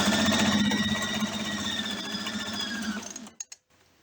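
Sewing machine stitching quilt pieces with a back stitch, a fast, rhythmic mechanical whir close by for about three seconds, then stopping with a couple of short clicks.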